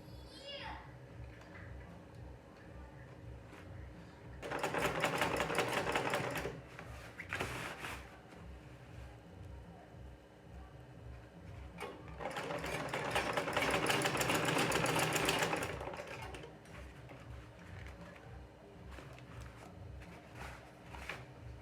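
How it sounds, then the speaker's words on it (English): A sewing machine runs in two separate bursts while hemming a Bubu gown with fringe, moderately loud and close, with quiet room noise and some low background sound between the runs. "I'm going to trace the same line and then I'm going to sew it all round"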